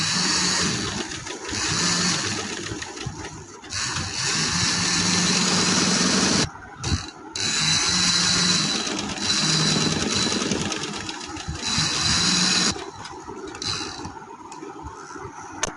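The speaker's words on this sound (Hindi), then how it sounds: "ये हाफ इंच के वक्फे से दूसरी सिलाई लगा लेंगे हम।" A sewing machine stitches pintucks into trouser fabric, running in a steady, close, continuous hum. A short stop comes near the middle and a lighter pause near the end.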